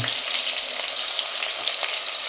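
Onion and tomato fry in a pan for a hilsa fish curry with cauliflower, eggplant and potato, giving a steady, close, broadband sizzle that holds throughout with no talk.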